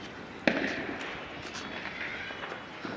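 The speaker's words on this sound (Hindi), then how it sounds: "आवाज़ तो फ्रेंड्स काफ़ी आ रही है पटाखे चलने की" During Diwali celebrations a single firecracker pops at a distance, a sharp but modest bang followed by soft outdoor background noise and faint scattered crackles.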